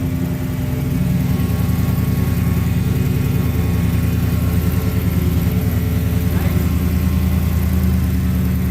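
A Jeep Commander's 6.4 V8, freshly fitted with a new intake manifold, runs at a steady, loud idle close by with a deep, even rumble throughout, while people talk faintly over it.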